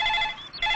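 A telephone rings with an incoming call, a bright electronic ring that breaks off for a moment and starts again, clear and alone.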